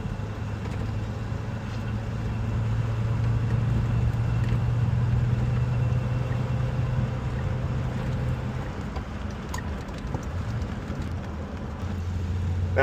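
An aluminum-bodied classic car, a Pebble Beach winner, drives along in third gear, its engine giving a steady low drone with road noise and a faint whine that shifts slightly toward the end.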